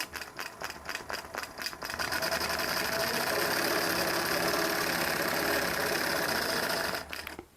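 Quilting machine stitching a feather pattern across a quilt, a steady, fairly loud mechanical whirring and rattling that kicks in after a couple of seconds and runs continuously without talk.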